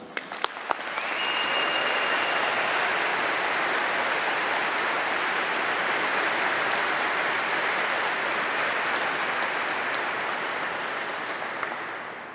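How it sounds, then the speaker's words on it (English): A large commencement audience at a law school graduation ceremony bursts into sustained, rousing applause that starts abruptly after a few lone claps and holds steady for over ten seconds before slowly easing. "join the members of the class of 2019 in giving their families and friends a rousing round of applause."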